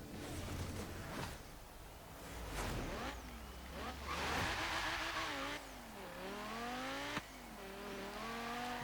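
A 2006 Audi RS 4 in Forza Horizon 3 on an autocross course, the engine revving hard and rising through gears with tire squeal and shifting pitch, loud and close with no talk.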